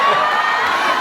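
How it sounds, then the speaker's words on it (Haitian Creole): A live concert audience applauds and cheers in one short, loud, dense burst of clapping and whooping voices. "On applaudit pour moi"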